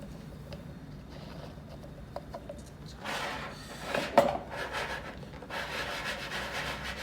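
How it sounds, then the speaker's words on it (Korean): Wheat bran being poured and pushed around an egg tray in a mealworm rearing bin, giving soft rubbing and scraping with a denser rustling burst midway, close and moderately quiet with no voices. "이렇게 주변에 밀기울을 채워주는 것은 이 체란판이 움직이는 것을 방지하기 위한 것이고요."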